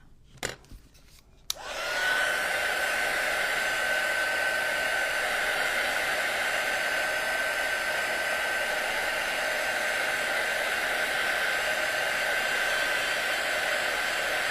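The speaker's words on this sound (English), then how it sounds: "Since it does release so easily with your heat tool, you just have to be gentle with it so you don't destroy it." A heat tool blows steadily to warm and loosen the spine of a Little Golden Book cover being made into a Christmas junk journal, a constant close whooshing roar that starts after a couple of seconds of faint clicks and runs unbroken.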